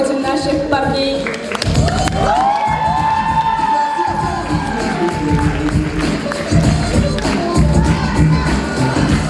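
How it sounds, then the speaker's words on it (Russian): Crowd at a university Mister BashGU pageant cheering and shouting loudly as contestants are sent off, a steady roar of voices with whoops rising over it throughout. "А теперь под бурные аплодисменты проводим наших парней."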